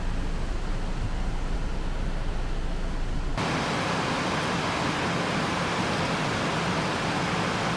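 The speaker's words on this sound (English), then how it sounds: "Here's the waterfall." A waterfall in the Pyrenees mountains gives off a steady, dense rushing roar with no pauses. Its tone grows brighter and harsher a few seconds in, then holds level to the end.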